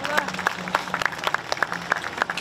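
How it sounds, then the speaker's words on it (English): Audience at a mural dedication applauding school trustees, a scattered round of individual hand claps in a fairly regular rhythm, close and moderately loud, with a bit of background murmur beneath. "let's give them a big round of applause"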